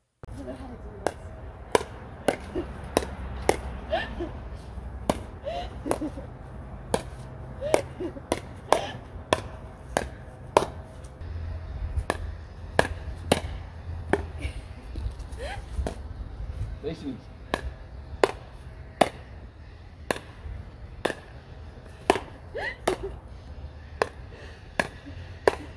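Carbon fiber pickleball paddle striking a ball during play, sharp crisp pops repeating at an uneven rally pace over about twenty-five seconds, with voices and a low background rumble underneath.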